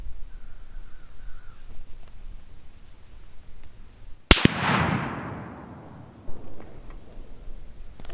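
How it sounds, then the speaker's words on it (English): A single sharp, loud report from a Mossberg Patriot .30-06 rifle firing a Winchester 180gr Power-Point round, its boom decaying into a long rolling echo outdoors, with a crow cawing faintly beforehand. "I'm going to shoot this next group"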